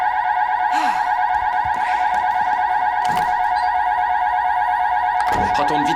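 A loud security alarm rings steadily and without a break through the whole stretch, with harsh, sustained tones that dominate everything else, while faint movement and brief sounds show underneath.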